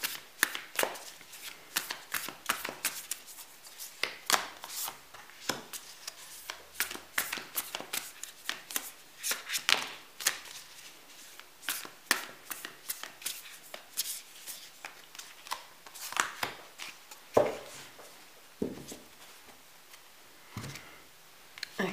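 Spirit animal oracle cards shuffled by hand during a reading, a steady stream of soft riffling flicks and taps close by, with no talking.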